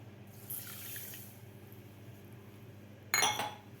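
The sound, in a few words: pouring water into sugar for syrup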